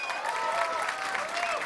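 A Mortal Kombat X tournament crowd at an ESL Fatal 8 event applauds and cheers in a dense, continuous wash of clapping, with a commentator's voice running over it.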